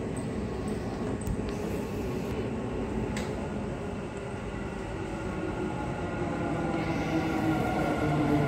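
A Dubai Metro train pulls into Creek station with a continuous rumbling roar and a faint high whine, growing slightly louder near the end.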